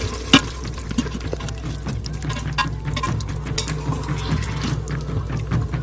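Sauce with cayenne pepper and whole thyme being stirred in a pot, giving a steady low wet scraping and bubbling texture with a few spoon clinks, moderately close, no voices.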